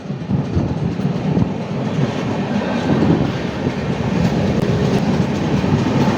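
Passenger train on the Kollam to Coimbatore line, heard from inside as a steady rumbling roll with rhythmic clattering of wheels over the rails throughout.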